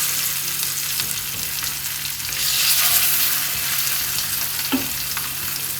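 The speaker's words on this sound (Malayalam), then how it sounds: "ചൂടായ എണ്ണയിലോട്ട് മീനിട്ട് കൊടുക്കാം" Fish for a chilli fried fish curry frying in hot oil, a loud, dense, continuous sizzle that swells briefly midway, heard up close with no talking.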